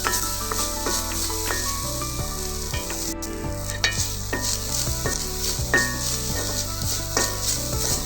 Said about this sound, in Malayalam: ബ്രൗൺ നിറമാകുന്നത് വരെ വറുത്തെടുക്കണം.